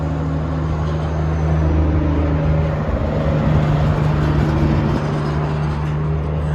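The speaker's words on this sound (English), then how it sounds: "Let's wait for these semis to drive by." Semi trucks rumble past on a nearby road, giving a loud, continuous low roar of heavy engines and tires that swells and fades. Nobody speaks.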